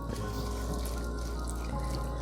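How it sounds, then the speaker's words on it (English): Risotto simmering in a pan on medium to medium-high heat, giving a steady close wash of soft bubbling and fine liquid crackle throughout, with no talk over it. "A little bit of bubbles."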